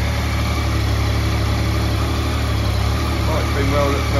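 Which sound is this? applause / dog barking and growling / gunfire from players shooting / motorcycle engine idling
motorcycle engine idling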